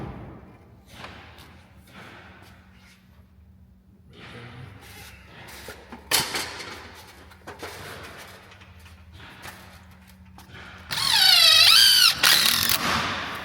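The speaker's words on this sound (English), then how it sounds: "Screwing the two roof panels together with 3-inch screws, 3-inch yellow screws, including in the kit." 3-inch yellow screws being driven through metal roof panels of a cedar shed, giving scattered thumps and ratcheting clicks, then a loud squealing, whining burst near the end.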